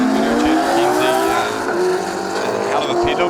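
Nissan S15 drift car launching on Falcon tyres at Pukekohe Park Raceway during a D1NZ drift event, a high revving engine climbing in pitch with tyre squeal, close and loud, with commentary over it.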